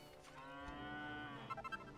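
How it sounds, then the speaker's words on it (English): Cows in the Dragon Quest VIII video game give a long, drawn-out moo, followed by a quick burst of short lowing calls at the end, quiet and with no talking. "Oh, cows. So many cows."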